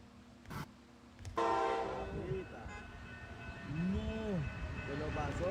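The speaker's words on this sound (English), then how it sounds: "I know you ain't trying to tell this train to stop" A train passes with a loud, steady rumble and a sounding horn, wavering tones sweeping up and down over the continuous roar, with a voice briefly audible early on.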